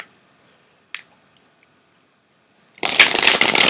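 Quiet at first with a couple of small taps, then a sudden dense burst of crisp riffling as tarot cards are shuffled close up.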